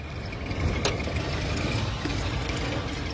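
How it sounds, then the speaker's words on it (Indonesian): A 1994 Suzuki Katana GX (SJ410) engine idles smoothly and steadily, a low, even mechanical rumble with a brief faint click partway through. "bisa mendengarkan suara mesinnya halus sekali"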